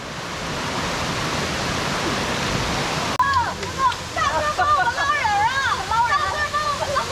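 Waterfalls near Luang Prabang, Laos, a steady roaring rush of water heard alone at first, then a narrator talks over the continuing flow.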